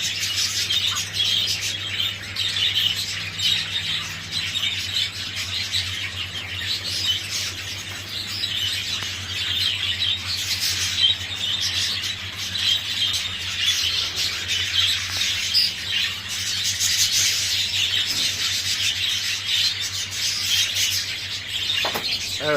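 Many birds call and chirp together in a breeding flock during mating season, a steady busy chorus of overlapping tweets and squawks close by, with a constant low hum underneath and no talk.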